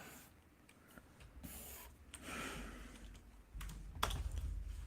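Keyboard typing during a digital painting session: irregular soft clicks and key taps at moderate distance, with rustling handling noise and a sharper tap near the end.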